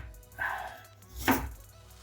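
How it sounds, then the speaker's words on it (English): A knife chops carrots on a board in two distinct strokes, the second sharper and louder, close by in a quiet kitchen. "Make sure you chop them small, because these fuckers are not going to boil so fast"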